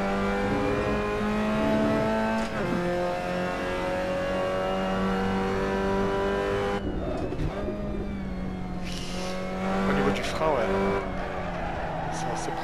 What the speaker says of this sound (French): T'accélères, bah, forcément, l'avant se lève.